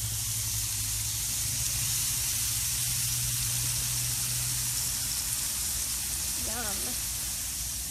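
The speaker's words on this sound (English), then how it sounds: "Can hear the searing sounds." Game day finger foods searing in a hot pan, giving a loud, continuous sizzling hiss that fills the whole stretch, with a brief spoken remark near the end.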